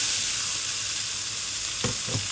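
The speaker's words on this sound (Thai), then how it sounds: "จากนั้นเราก็จะมา ทอดหมูค่ะ" Pork belly frying in a dry pan without oil, rendering its own fat with a steady bright sizzle, then two short stirring knocks near the end.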